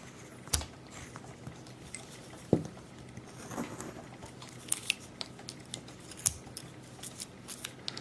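Knife cuts into wood while carving a villager figure: a few sharp, isolated snicks and scrapes spaced irregularly over a quiet background, close and fairly faint, with no talking.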